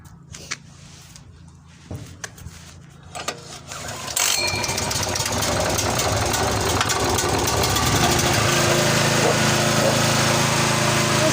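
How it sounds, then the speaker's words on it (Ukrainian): A portable generator is pulled to start, with several short tugs and handling knocks, then its engine catches and settles into a loud, steady close running drone that continues to the end. "так він заводиться першого разу"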